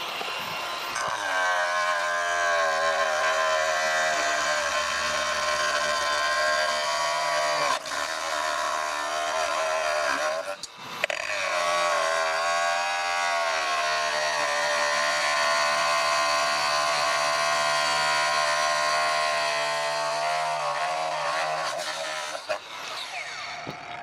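An angle grinder fitted with a Millner cutting wheel cuts through metal in a loud, sustained whine that dips briefly midway, then continues steadily before stopping.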